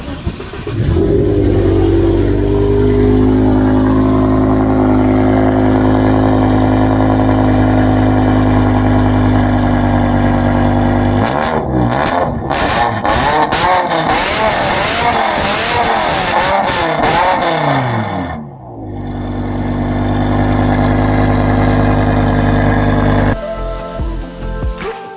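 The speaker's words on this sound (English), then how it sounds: "Obviously, this is a custom exhaust that sounds absolutely insane." A BMW E60 M5 sedan with a custom exhaust, loud and close, idling with a steady drone before a series of sharp rising and falling revs, a brief dip, then more hard revving.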